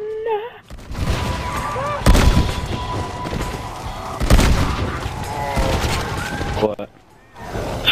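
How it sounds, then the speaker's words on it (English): Shotgun blasts in a zombies video game fire in quick repeated bursts, loud and booming, with voices talking over the gunfire throughout. "Shot to the face with a shotgun doesn't kill a guy in this game"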